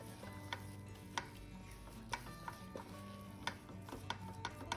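Besan halwa being stirred in a pan after kewra water is added, with a steady soft sizzle and periodic scraping clicks of the spoon against the pan at a regular rhythm, close and fairly quiet.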